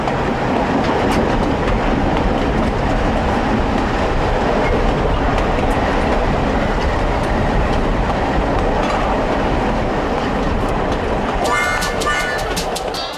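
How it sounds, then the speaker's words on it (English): The White Pass and Yukon Route train rolls along its rails with a loud, continuous rumble and rhythmic clatter, close by, ending in a brief high metallic squeal. "the reintroduction in 1988 of the small train service,"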